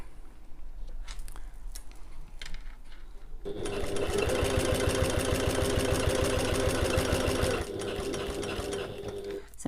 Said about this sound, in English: So we're going to sew as far as that line, stop with the needle down, lift the presser foot and pivot